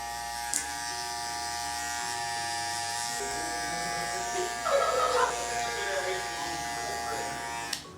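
Electric hair clippers buzz steadily and close up while fading 4C hair, the drone cutting in and out briefly as the guard lever is adjusted, with some faint talk underneath.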